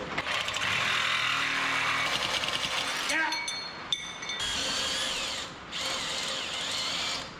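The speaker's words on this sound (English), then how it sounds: "we'll be able to drill a hole to bolt through" A power drill whines steadily as it bores a 5/16-inch bolt hole for custom control arms on a 1963 Loadstar, its pitch dipping and catching briefly as the bit bites, then spinning up again.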